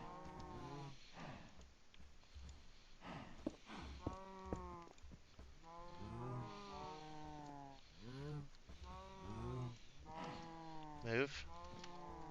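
Minecraft cows in a farm pen moo over and over, the calls close and fairly loud, often overlapping in a steady series with a voice briefly underneath.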